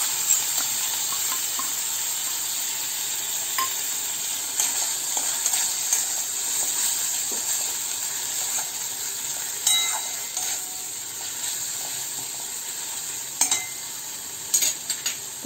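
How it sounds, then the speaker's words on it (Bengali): Spices land in onions frying in a pan for chitol fish muitha, sending up a bright, sustained sizzle while a utensil stirs and clinks against the pan now and then, with no voices. "পেঁয়াজটা জল শুকিয়ে গেছে, একটু ভাজা ভাজাও হয়ে গেছে। এবার মশলাটা দিয়ে দিলাম।"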